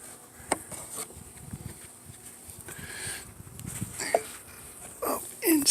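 Honey bees buzz around an open hive during an overdue spring inspection, a steady insect drone with brief scraping and clicking noises near the end.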